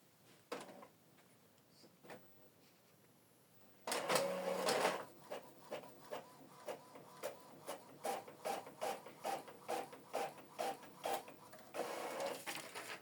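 An Epson EcoTank L3280 printer printing a test page: a burst of mechanical whirring, then a steady series of rhythmic clicking feed strokes, fairly quiet and close.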